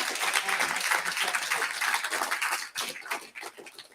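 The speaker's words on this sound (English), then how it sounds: "Give them some applause for helping you get to where you are." Graduation audience at an eighth-grade ceremony clapping for the graduates' families, a dense, moderately distant round of applause that dips briefly and then resumes.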